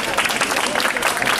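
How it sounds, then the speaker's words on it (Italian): An outdoor street audience at a theatre performance on Corso Garibaldi in Reggio Calabria gives a short burst of applause, close and fairly loud, with a voice mixed in. "Glielo facciamo un applauso."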